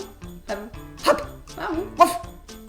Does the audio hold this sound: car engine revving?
no